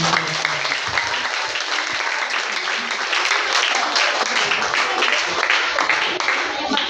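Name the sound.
applause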